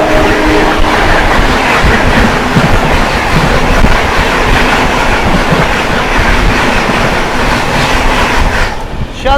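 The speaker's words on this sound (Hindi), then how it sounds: "अब अपने से क्रॉस होने आ रही है शियालदह से चलकर नई दिल्ली की ओर जाने वाली राजधानी एक्सप्रेस" The Sealdah to New Delhi Rajdhani Express rushes past close by on the adjacent track, with a loud continuous roar and rapid clickety-clack of wheels that fades only at the very end.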